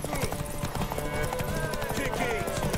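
Horse hooves clip-clopping in The Witcher 3, a steady rhythmic trot running under game music and a talking voice.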